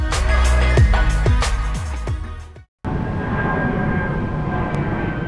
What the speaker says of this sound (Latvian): Un atkal manis iepriekš pieminētās lidmašīnas.